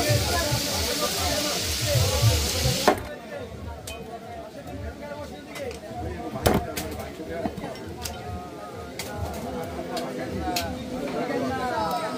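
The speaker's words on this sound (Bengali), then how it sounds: "এই স্কুইড কাঁকড়া ফ্রাই হচ্ছে।" Squid and crab frying at a fish fry market stall in Kuakata, a steady sizzling hiss that drops after a few seconds, with clinks, crowd chatter and talking over it.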